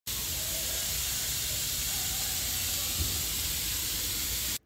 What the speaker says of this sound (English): it's important to actually rinse out that high bleach solution with some more spraying